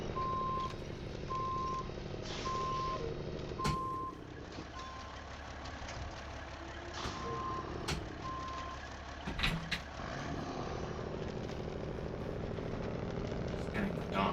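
A truck in the SnowRunner video game reverses with evenly spaced backup beeps over a constant engine drone, the beeps stopping partway while the engine keeps rumbling alongside clanks and thumps.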